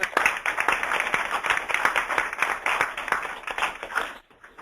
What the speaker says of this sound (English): we'll give another round of applause for a great presentation by Amelia